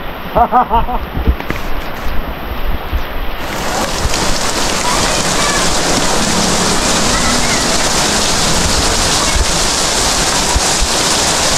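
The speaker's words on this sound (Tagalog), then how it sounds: "Umuulan." Steady heavy rain pours down, a dense continuous hiss, with a few brief voices early on before the downpour dominates.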